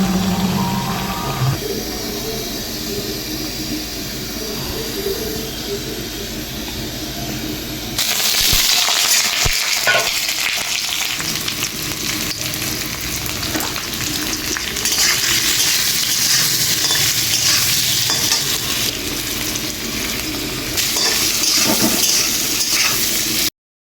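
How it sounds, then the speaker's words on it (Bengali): Young jackfruit pieces fry loudly in hot oil with a dense, continuous sizzle and crackle, stirred in occasional bursts and heard close up. "কাঁঠালগুলিকে একটু ফ্রাই করে নিচ্ছি।"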